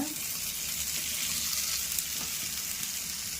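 Bitter melon and tomato fry in a pan for poriyal, giving a steady, close sizzle with low bubbling and a few small pops throughout.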